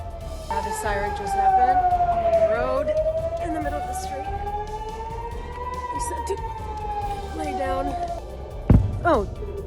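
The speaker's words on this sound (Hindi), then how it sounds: "सायरन बज रहे हैं और खतरे की घंटी गूंज रही है।" A loud air raid siren wails in Israel during an Iranian attack, its tone slowly rising and falling over a steady noisy background, with a brief sharp burst of noise near the end.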